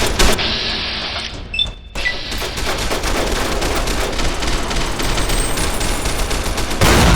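Dynamite goes off in a video game, sharp loud blasts followed by a brief hush and then a dense, sustained crackle of rapid explosive bursts and gunfire-like pops.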